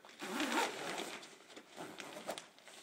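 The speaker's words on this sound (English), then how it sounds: "Grab your T-handle on your zipper." A Stearns Driflex drysuit zipper is pulled closed by its T-handle, a close, raspy ripping sound in a few uneven strokes lasting a couple of seconds, with no talking.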